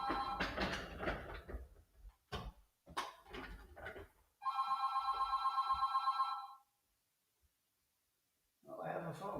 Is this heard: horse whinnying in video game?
no